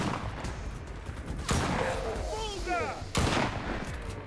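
Gunfire in the zombie survival shooter Enlisted, two heavy booming shots a couple of seconds apart ringing out over a busy game backdrop, with a brief whistling sweep between them.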